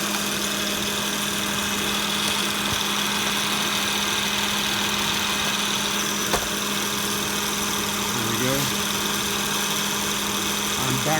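A Honda six-cylinder engine idles with a steady, even hum and a faint tick that holds for the whole stretch, quiet and close, with no talk over it.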